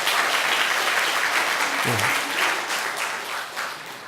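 A church congregation gives sustained, dense applause throughout the worship service, with a voice briefly speaking over the clapping partway through.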